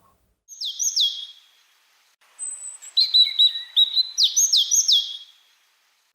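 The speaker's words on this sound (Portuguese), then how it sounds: "O passarinho já estava lá desde sempre." A small bird chirps in short bursts of clear, high, descending whistled notes, one early phrase followed after a pause by a denser run of repeated calls, close and alone against silence.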